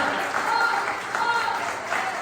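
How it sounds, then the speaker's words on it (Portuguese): A church congregation applauds during a sermon, a continuous wash of clapping that fills the hall with a speaking voice faintly present underneath. "Você pode aplaudir o nome do Senhor"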